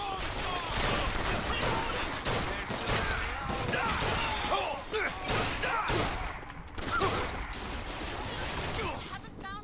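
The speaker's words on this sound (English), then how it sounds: "Where am I getting shot from?" Gunfire from a Bioshock Infinite firefight, a steady run of sharp shots and crashes under game noise and music, with a voice talking over parts of it.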